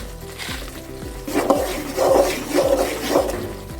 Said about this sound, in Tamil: பாருங்கள், நல்லா கொதித்து நிற்கிது.